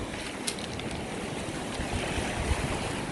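Strong waves surge and crash continuously on a rocky Great Lakes shore in Michigan, churning and hissing close by with wind buffeting the microphone and brief splashy peaks; no talking.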